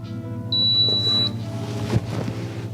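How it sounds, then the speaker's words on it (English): A crock pot timer sounds one sustained high electronic beep lasting under a second, near and clear over a low steady hum, followed by a brief clunk. "my timer went off"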